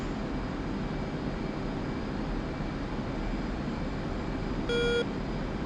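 A master caution alarm sounds in an aircraft combat video game, one short tonal beep near the end over a steady, loud engine drone.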